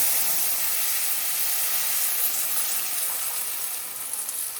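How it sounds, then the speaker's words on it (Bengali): Tamarind pulp goes into hot oil with spices while cooking puti fish in a sour tamarind curry, giving a loud, steady sizzling hiss that carries on evenly throughout with no talk. "এর মধ্যে আমি দিয়ে দেব বানিয়ে রাখা তেঁতুলের কাপ।"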